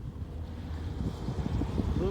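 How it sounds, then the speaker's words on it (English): Wind buffets the microphone while mountain biking outdoors, a low rumbling roar that stays steady and close throughout the short stretch. "A little bit windy."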